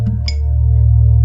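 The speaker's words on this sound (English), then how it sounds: "This is the sound of the empty mug." A short sampled tap on an empty mug, played back in a music production setup: a single struck tone with a brief bright attack over a steady sustained hum, loud and alone without talk.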